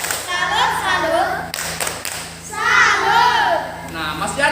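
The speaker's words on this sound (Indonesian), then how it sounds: "Nah, tepuk salut." Schoolchildren in a fourth-grade classroom perform the "tepuk salut" rhythmic clapping cheer, with claps and chanting voices blending into a loud, busy group sound throughout.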